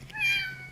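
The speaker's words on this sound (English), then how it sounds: "Does it sound like a cat or what?" A cat gives one short, clear meow indoors, close by and fairly soft against a faint steady hum.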